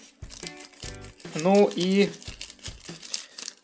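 Small plastic bags for storing leftover loose pieces crinkle and rustle in a few bursts while a person talks over the handling.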